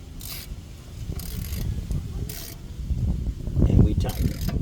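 Car brake caliper bolt being tightened with a ratchet during a brake pad replacement, rapid close clicking and mechanical rubbing that grow louder toward the end.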